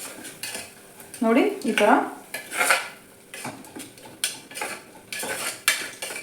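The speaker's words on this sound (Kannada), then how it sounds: "ಇದನ್ನೆಲ್ಲ ನಾನು ಮತ್ತೆ ಫ್ರೈ ಮಾಡ್ಕೊತಾ ಇದ್ದೀನಿ." Spices with coriander powder and salt stirred in a pan for palak rice, a metal spoon scraping and clinking against the pan in quick irregular strokes, close and fairly loud, with a brief spoken phrase partway through.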